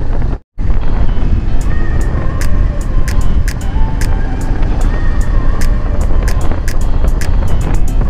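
Bajaj Pulsar 220F motorcycle being ridden on the road, a steady loud engine drone with rushing wind noise and a brief dropout near the start, and no talking.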